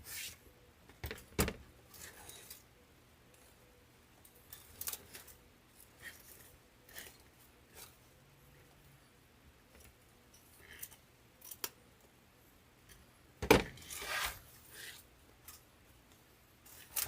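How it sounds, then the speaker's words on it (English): Scissors trimming ribbon tails on a grapevine wreath, a few quiet scattered snips and clicks close by over a faint hum, with no talk. "trim them where they need to be trimmed"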